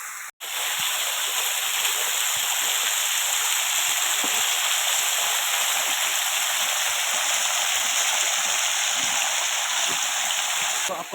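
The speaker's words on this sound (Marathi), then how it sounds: "खूप वरच्यावरून पाणी पडत आहे" A high waterfall pours down beside a Hindu temple site in the Parner area, a steady, loud, unbroken roar of falling water that fills the whole stretch.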